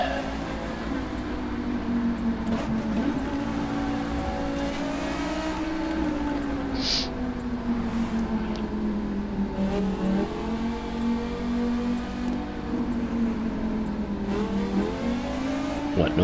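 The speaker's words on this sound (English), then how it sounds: "Much as I like the noise of the engine, we have to turn it down." A steady car engine in the racing video game The Crew 2 drones throughout, its pitch rising and falling as it revs, with a faint tire squeal at one point.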